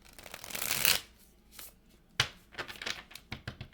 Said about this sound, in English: So let's start off with the tarot cards just to get a vibe